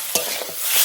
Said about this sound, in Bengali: মাংস সুন্দর করে কষিয়ে নিই